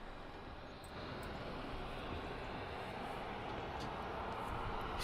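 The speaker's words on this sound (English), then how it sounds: "Look at this jumbo jet coming in just a moment." A jumbo jet approaches Mildenhall, a steady broadband roar that starts fairly quiet and builds gradually as the aircraft comes in, with no talk over it.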